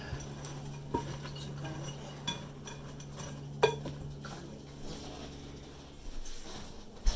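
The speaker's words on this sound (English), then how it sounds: "Stir this up a bit." A utensil stirs food in a pot while a roasted chicken dinner cooks, with soft scraping and occasional light clinks against the cookware over a faint hum.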